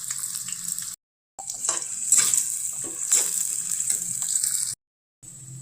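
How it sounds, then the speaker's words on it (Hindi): Chopped onions hiss in hot oil with cumin for a potato bhujiya, a steady bright sizzle with occasional stirring scrapes, broken by two brief silent cuts. "प्याज डालेंगे कटी हुई।"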